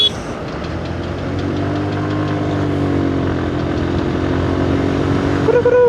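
A Yamaha FZS motorcycle engine drones loudly and close during a group ride, a steady rumbling note that rises slightly in pitch, with other bikes nearby.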